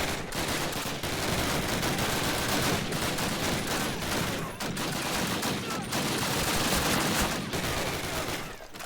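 Continuous rapid gunfire from hip-fire shooting in the 2003 Call of Duty video game, dense and loud throughout with bursts running together and brief dips between volleys.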